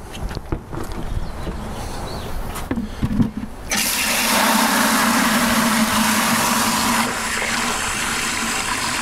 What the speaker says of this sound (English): So fill it up about halfway and you're ready to go.